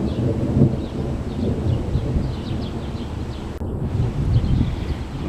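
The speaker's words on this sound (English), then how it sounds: "This here non-stop thunder." Steady thunderstorm with continuous low rumbling thunder and rain-like wash during an August storm in Poughkeepsie in New York's Hudson Valley, loud and unbroken throughout, with no talk.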